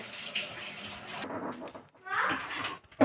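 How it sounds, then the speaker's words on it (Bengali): Fresh mushrooms are washed under hot running water, the tap splashing steadily, briefly pausing and then streaming again, with a voice speaking softly over it. "ধুয়ে রাখছি গরম জল দিয়ে।"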